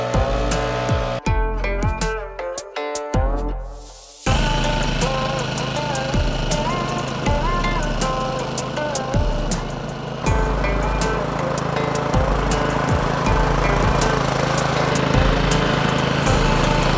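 A lawn mower cuts a backyard golf green, its engine running loud and steady and close by after a brief mechanical start, with no voices over it.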